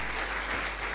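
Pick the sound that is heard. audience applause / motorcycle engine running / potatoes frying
audience applause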